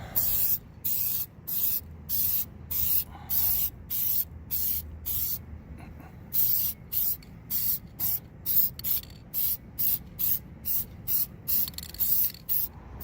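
Short, sharp hissing bursts from an aerosol can spraying Hyperdip coating onto wheel rims, about two dozen quick sprays in a regular rhythm, close and loud.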